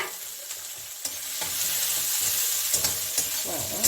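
A large chopped onion dropped into hot oil for a Bengali tangra fish curry, loud close sizzling and spattering with stirring clatter, building after the first second and continuing without speech.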